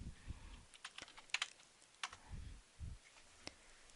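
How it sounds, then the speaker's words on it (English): Sparse, irregular keystrokes tapped on a computer keyboard while values are entered for a correlation practice problem, soft close clicks with gaps between them and low thumps underneath, no speech. "why can't I type?"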